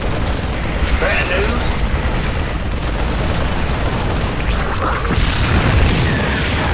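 A bunker destroyed by a Zerg attack in StarCraft 2, dense rumbling booms and explosions forming a loud continuous roar with bursts layered on top, a player talking over it.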